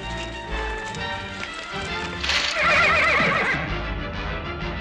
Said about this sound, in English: Beautiful jet black wild mare.